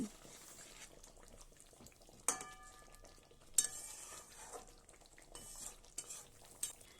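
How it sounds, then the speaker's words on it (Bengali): A spoon stirs ghee and garam masala into a simmering yogurt curry of katla fish, giving soft scraping and a light bubbling sizzle with a few sharper metallic clinks, quiet and close, no voices. "ঘি আর গরম মশলাটাকে ভালো করে মিশিয়ে দিচ্ছি।"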